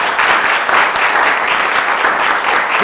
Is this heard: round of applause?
yes